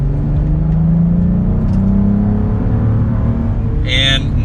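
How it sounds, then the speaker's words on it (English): A 2022 Cadillac CT4-V Blackwing pulls away under light throttle in its quiet drive setting, a smooth rising engine drone heard from inside the cabin, loud and steady, with a brief higher sound near the end. "We'll give it a little bit of gas here and see what it sounds like in the quiet setting"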